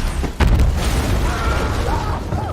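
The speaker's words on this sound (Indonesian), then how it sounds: "Tiba-tiba seorang prajurit bergerak keluar sehingga tubuhnya terkena ledakan bom." A bomb explodes near a trench in a war film, a sudden loud, deep boom followed by sustained rumbling debris noise.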